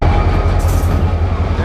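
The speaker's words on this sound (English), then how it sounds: "There, the train is passing us." A train rolls past on the Smoky Mountain Railroad with a loud, continuous low rumble and rattle of wheels and cars, close by.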